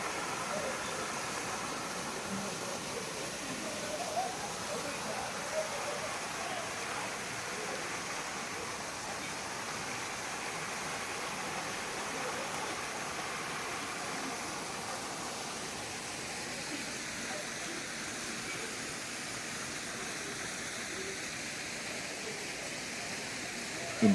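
A waterfall in Kerala pours into a pool about twelve feet deep, a steady broadband roar that stays constant and close, with a voice talking faintly beneath it.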